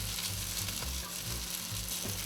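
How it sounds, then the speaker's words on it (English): Romanian sausages sizzle steadily in a pan on a stovetop rather than a grill, a close, continuous frying hiss with faint crackles and no voices over it. "love the sizzle."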